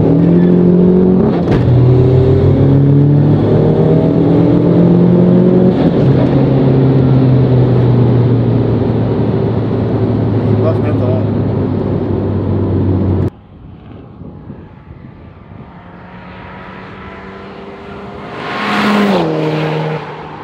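Turbocharged car engine with large turbos revving hard and steadily, loud and close with rising harmonic tones, then dropping off abruptly to a lower idle before a brief surge near the end.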